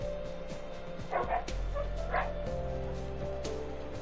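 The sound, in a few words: dogs barking in video game Minecraft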